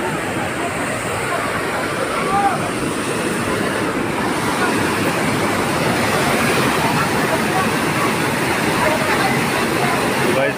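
Clear, cold water pours down at the Vaishno Devi shrine, where people are bathing, making a loud, steady rushing roar that stays dense and unbroken from start to finish.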